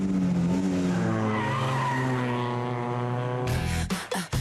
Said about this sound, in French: la Logan de compétition. Un petit bolide de 115 chevaux pour à peine plus de 900 kilos.